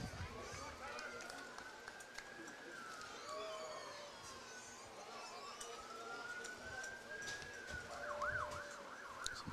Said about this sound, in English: Some sirens going on around here